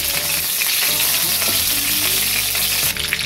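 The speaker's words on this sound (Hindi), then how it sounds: "अब मैं इसमें जीरा को ऐड करूँगी।" Cumin seeds sizzling in hot oil left over from frying jackfruit, a dense continuous crackling hiss close up, loud and steady with no talking.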